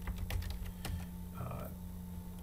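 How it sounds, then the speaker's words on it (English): A computer keyboard tapped in a short quiet burst of keystrokes, close but soft against a low hum, followed by a brief faint tone. "So I'm just gonna type in Bill Inman audience."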